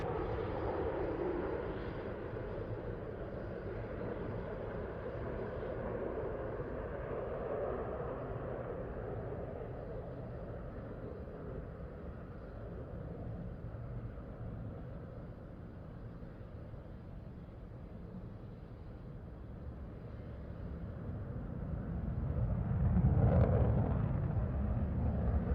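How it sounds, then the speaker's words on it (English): Turbofan jet aircraft at an airshow on the runway, a steady broad engine roar that holds for a long stretch and swells louder near the end as thrust builds for takeoff. "no doubt the power will come on of those turbofans as he reaches the end of the runway"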